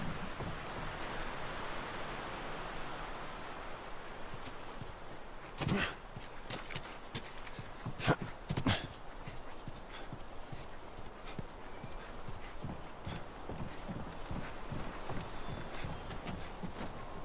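Horse hooves clip-clopping at a steady trot in the video game The Last of Us, a continuous rhythmic patter with a few sharper knocks and faint background ambience.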